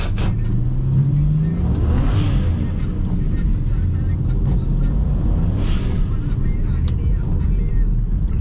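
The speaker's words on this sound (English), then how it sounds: "I tried to do a donut right there and spin it back at the end" A BMW 335i engine revs hard while the car spins a donut on a wet road in the rain, loud and continuous with rising whine, mixed with rain and road noise and some talking over it.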